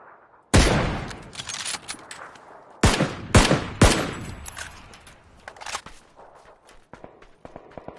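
Several sharp, loud pistol shots from a shooting video game, a lone crack and then a quick cluster of three, each followed by a short decaying tail, with lighter clicks and thumps afterward.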